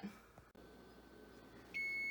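A kitchen timer for baking banana bread beeps with a sustained high electronic tone near the end, following a quiet room with faint background noise.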